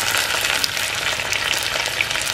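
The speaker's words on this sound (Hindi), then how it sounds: "जैसे ही प्याज फ्राई हो जाए इसमें टमाटर, पुदीना और हरी मिर्चें और ये तमाम मसाले डाल दें।" Chopped onion fries in hot oil in a pan for a Pakistani bhindi dish, giving a steady, dense, close sizzle that runs evenly throughout with no voices.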